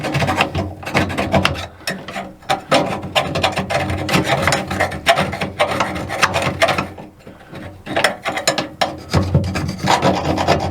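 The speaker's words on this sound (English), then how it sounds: "just a little more filing" Hand file rasping at a small plastic gearbox on a failed fifth-wheel trailer landing gear: rapid, uneven scraping strokes repeat close up for about ten seconds, with brief pauses and no talk.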